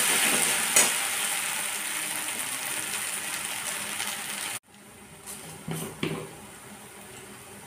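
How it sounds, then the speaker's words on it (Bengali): Spices and chopped onion sizzle steadily in a hot pan for a chicken curry with papaya and potato, with scraping stir strokes and clacks of a spoon; the frying noise drops sharply partway through, then continues more quietly with a few louder stirs. "এবার যখন ভাজা ভাজা হয়ে যাচ্ছে"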